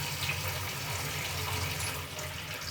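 Salted turmeric water is poured into a pan, a steady running-liquid wash that is fairly loud and continuous for the whole stretch, with no voices.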